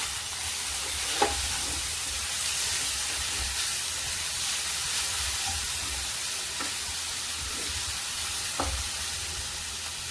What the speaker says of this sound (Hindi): और फिर चलिए सभी चीज़ को अच्छे से मिक्स कर लेते हैं।